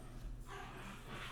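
Pet dogs give faint, brief yips and whimpers over a low background hum, with no talking.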